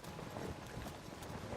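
Faint, steady hoofbeats of horses trotting in Zelda: Tears of the Kingdom, a low rhythmic clopping heard at a distance against quiet outdoor game ambience.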